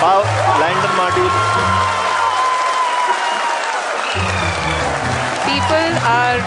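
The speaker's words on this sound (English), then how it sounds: "People are applauding." A crowd applauds loudly and steadily at an ISRO event tracking a lunar lander module, with voices and cheering mixed into the continuous clapping from start to finish.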